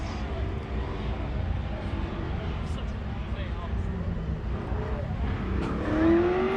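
Race car at a King of the Mountain autocross event accelerating hard toward the finish, a steady continuous engine roar with a rising pitch near the end, heard under commentary.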